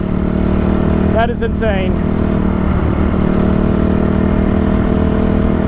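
Stock Honda CRF 250R dirt bike and stock Yamaha Raptor quad held at wide open throttle, a loud steady engine drone throughout with a brief rising whine near the start, while a voice speaks over it.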